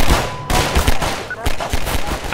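Explosions and gunfire in the video game Half-Life 2, a loud, dense barrage of rapid shots and booming blasts packed together with no pauses, up front and unbroken.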